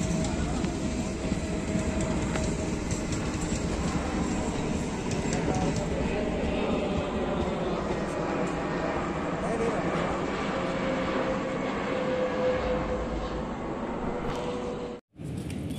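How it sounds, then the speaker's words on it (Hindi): An Indore–Nagda passenger train pulls into Laxmi Nagar station with a loud, steady rumble and rolling wheel noise throughout, ending in a brief dropout. "इंदौर नागदा इंदौर पैसेंजर है ये, जो कि ये लक्ष्मी नगर अराइव कर रही है।"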